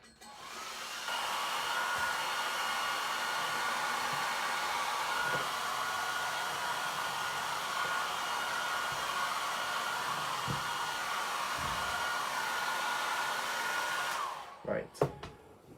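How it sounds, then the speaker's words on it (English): Hair dryer blowing steadily on paint spread over a vintage cushion, a loud constant rushing hum for about thirteen seconds before it clicks off, followed by a few handling knocks; no voices. "give it a quick blast with the hairdryer to finish it off"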